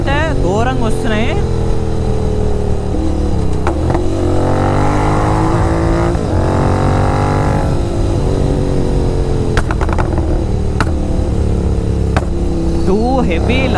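A GT 650 motorcycle with a tuned full-system exhaust riding past at heavy volume, engine rising and falling through several loud revs and gear changes, very close throughout.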